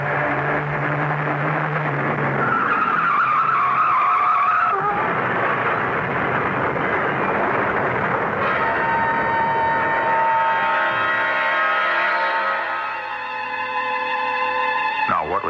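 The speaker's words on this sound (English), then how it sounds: "A truck. Turn the wheel. Go off the road." Radio play sound effect of a car swerving off the road to avoid a truck: engine roar and tire screech build, then a harsh crash-like burst followed by a ringing, horn-like tone, with no talk.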